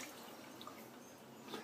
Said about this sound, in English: Let me get a little water.